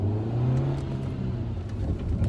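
A maneuverable car, still without an aftermarket exhaust, accelerating nearby; the engine hums and rises steadily in a mid-pitched drone throughout.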